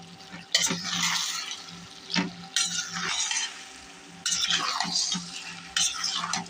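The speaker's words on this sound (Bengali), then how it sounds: "এখন একটু নাড়া দেব।" A spoon stirs and scrapes a simmering curry of dried fish, taro stolons and jackfruit seeds in a pan, giving repeated bursts of scraping and sizzle between brief quieter pauses.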